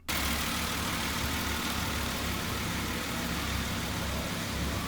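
A Datsun 280ZX's naturally aspirated Nissan L28E inline-six runs steadily and loudly nearby, a dense continuous engine drone with a low rumble and no speech.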